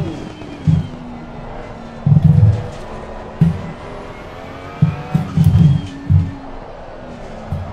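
Simulated BMW race car in Assetto Corsa Competizione accelerating with traction control off, its engine droning steadily with repeated bursts of louder revving and brief tire noise, no talk over it.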